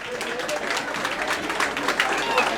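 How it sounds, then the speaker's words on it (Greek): Audience applause for a prize winner at a PAOK fan club gathering in Hannover, a steady patter of clapping from a crowd with voices mixed in underneath. "ένα χειροκρότημα στην κοπελιά."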